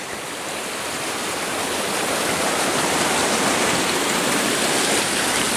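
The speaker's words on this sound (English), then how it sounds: "So here we have, starting off as a bridge with a little creek." Small creek flowing beneath a trail bridge in Great Sand Dunes National Park, a steady broadband rush of running water that holds constant and close throughout, with no voices.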